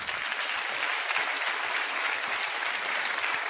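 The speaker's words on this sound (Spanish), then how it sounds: "No tengo más que darle un aplauso a Domingo Faustino Sarmiento porque se lo merece." A theatre audience gives a comedy history monologue a steady, dense round of applause, the clapping sustained and even from start to finish with no voices over it.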